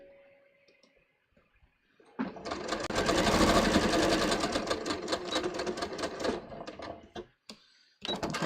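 Sewing machine topstitching a folded fabric edge, running steadily for several seconds with a fast, even mechanical rattle after a quiet start, then stopping, close and loud.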